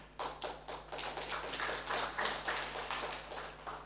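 Church congregation at a Christmas service clapping in rhythm, a faint, regular series of hand claps repeating roughly every third of a second, with a low steady hum underneath.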